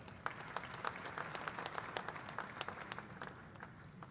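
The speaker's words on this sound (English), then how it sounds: "Can all the youth in the room please clap your hands for the guest of honor?" Young audience members at a coffee sector meeting addressed by President Samia clap for the guest of honor, a fairly faint, distant spread of scattered claps forming light applause across the room.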